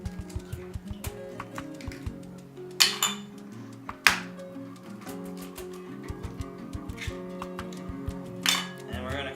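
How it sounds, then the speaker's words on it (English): Two eggs go into a bowl of hamburger mixture with scattered light clinks, taps and a couple of sharper knocks against the dish, fairly quiet and close, with a little talk in between. "And we're gonna put in 2 eggs."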